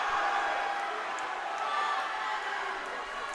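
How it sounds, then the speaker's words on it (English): A crowd at a university swimming and diving meet cheers during a race, a steady wash of distant shouting and whooping that holds at a moderate level throughout. "The crowd getting into this one."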